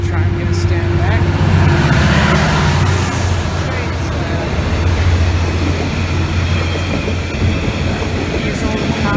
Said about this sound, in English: This is my first ever freight train.